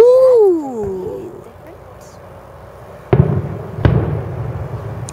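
Two sharp booms go off about a second apart, fairly close, after a short tonal voice-like sweep at the start.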